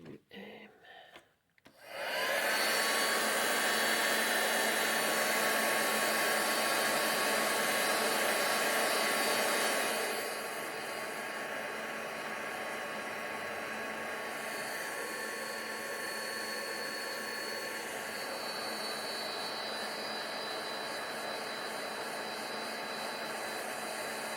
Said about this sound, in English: I'll just give these another little dry as well.